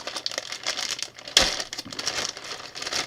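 A large plastic zip-lock bag is handled and opened, giving continuous close crinkling with a sharper rip-like burst near the middle, with no talking.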